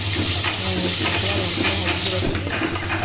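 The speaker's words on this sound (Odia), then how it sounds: "କଞ୍ଚା ଲଙ୍କା ଦୁଇଟା ପିଆଜ ଗୋଟେ ଛତୁ ପକାଇଦେଲି" Mushrooms with green chillies and onion fry in a pan, giving a steady close sizzle with light stirring scrapes, while faint voices murmur in the background.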